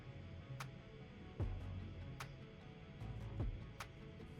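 A Funcooler X65 phone cooler fan running at its first, silent speed gives a faint, steady whir, broken by a few soft ticks and low knocks, with no voices.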